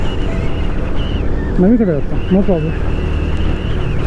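Wind buffeting a microphone on a motorbike ride in the rain, a steady loud rushing roar close to the mic that runs the whole time under a man's speech.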